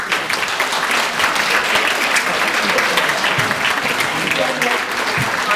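An audience at a nursing partnership event in Waterford applauds after a talk, with loud, dense clapping that fills the whole stretch and some voices faintly underneath.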